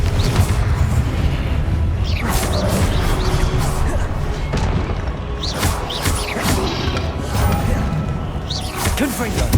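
Confringo fire spell blasts in the Hogwarts Legacy video game thud and crash repeatedly in dense bursts, loud impacts layered over game combat noise with a voice talking throughout.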